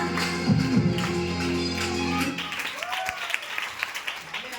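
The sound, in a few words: audience applause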